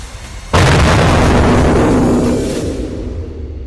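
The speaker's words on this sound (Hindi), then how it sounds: "कई इलाकों में लगातार धमाकों की आवाज सुनी गई" A single loud, close explosion from a missile or fighter-jet strike erupts suddenly after a brief low rumble, then a long, heavy roar slowly fades into distant rumbling.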